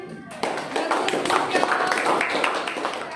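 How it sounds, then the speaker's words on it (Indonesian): A class of schoolchildren claps for a group after a science lesson, producing a brisk, continuous patter of many hands that starts abruptly and holds steady, with some voices underneath. "terima kasih untuk kelompok Hisham, kita tepuk tangan."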